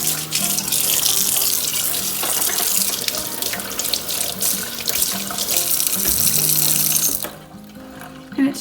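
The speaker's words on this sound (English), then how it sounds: "Run some hot water" Hot water runs steadily from a kitchen faucet into the sink drain, a loud, close, continuous splashing rush that cuts off near the end.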